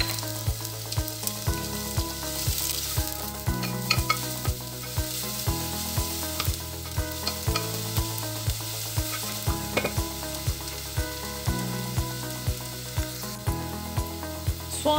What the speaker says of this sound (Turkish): Doğradığım yarım soğanımı da ekliyorum ve kavurmaya başlıyorum.